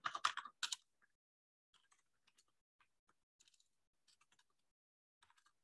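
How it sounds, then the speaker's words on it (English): Keys tapped on a computer keyboard, starting with a short loud burst of clicks, then soft scattered keystrokes in small clusters with quiet gaps, close and with no talking. "I'll just type it out"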